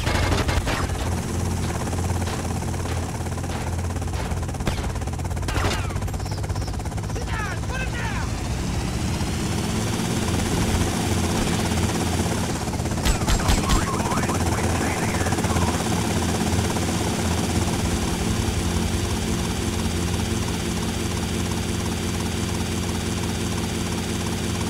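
Helicopter flying in the video game GTA Vice City, a steady engine and rotor drone that runs the whole time, mixed with game noise and a short burst near the middle, while voices talk over it.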